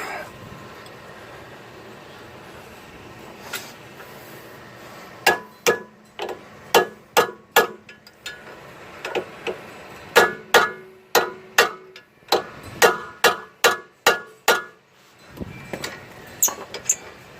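Hammer blows driving a wheel stud into place on a vehicle hub, sharp metallic strikes that come in irregular bursts, loud and close, over a low background hum.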